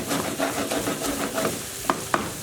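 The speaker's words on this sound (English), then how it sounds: "And I'm going to add in a 1/4 cup of passata. Just stir that through." Passata sauce being stirred through capsicum in a pan for stuffed eggplant, a soft bubbling sizzle with scraping stirs and a couple of sharp utensil knocks near the end, no talking.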